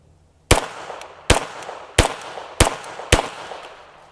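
Five loud, close gunshots crack out one after another at a steady pace, each sharp report trailing off briefly before the next.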